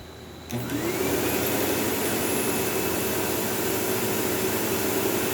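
A Sebo Automatic X5 upright vacuum cleaner with a faulty brushroll switches on after a brief pause. It rises into a loud, steady roar with a thin, high squeal running through it, close and continuous.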